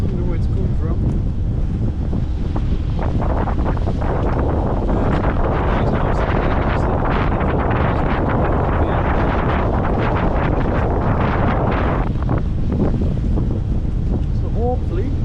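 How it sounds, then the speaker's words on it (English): Strong wind buffets a microphone aboard a sailing boat off the West of Scotland, a continuous loud roar with gusty surges and waves washing beneath, alone with no talk. "Bit of wind now, all of a sudden, where it's come from."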